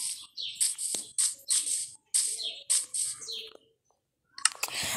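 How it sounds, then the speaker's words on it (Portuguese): A pet parrot in a Minecraft-style game chirps and squawks in a rapid series of bright, repeated calls, close and clear, with short gaps and a final burst after a pause. "Eu não quero meu papagaio me seguindo com um som de creeper."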